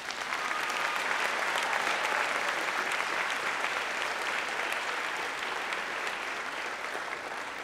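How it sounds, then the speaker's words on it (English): Applause fills a high school underclassmen awards ceremony in 2018, a loud, dense, sustained ovation from a large audience that holds steady throughout. "Applause."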